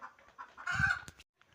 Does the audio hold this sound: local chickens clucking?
yes